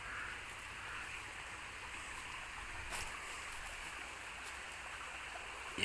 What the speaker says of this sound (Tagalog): Yan po yung sapa, guys.